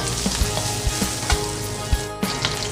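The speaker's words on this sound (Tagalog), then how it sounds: "let's start saute the onion together with the garlic. Let's drop the garlic first." Garlic sizzles and fries in hot oil for a Filipino chopsuey, a steady close crackle punctuated by sharp pops and a few stirring knocks, with no one talking.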